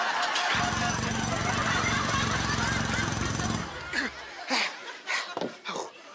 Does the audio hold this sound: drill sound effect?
yes